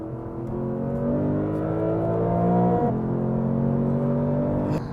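A Lexus GS F accelerates hard toward 70 mph, its engine note climbing steadily through the gear, then dipping briefly at a shift before rising again. The sound is loud and close, heard from inside the car.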